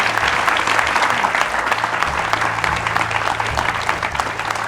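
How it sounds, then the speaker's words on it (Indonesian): Studio audience applause at a talk show, loud, dense and continuous clapping filling the whole stretch without pause, with a low hum underneath. "tepuk tangan boleh"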